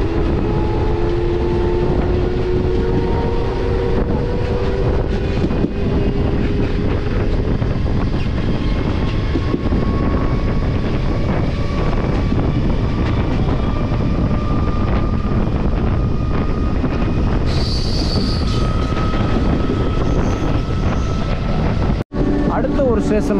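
A Salem to Arakkonam MEMU express train arrives at a station, its loud sustained rumble carrying faint whining tones and a sharp click near the end.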